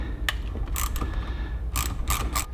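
A hand ratchet clicks in short, close bursts while loosening a bolt near the throttle body on a Ferrari 458 intake, with pauses between strokes.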